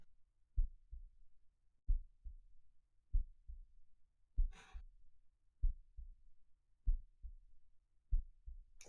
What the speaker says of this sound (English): all you can hear is your own heartbeat thumping away